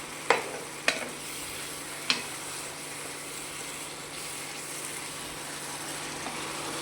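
Mushroom gravy stirred in hot oil for a mushroom curry gives a steady, soft sizzle throughout, with a few sharp spoon clicks against the pan near the start and another around two seconds in.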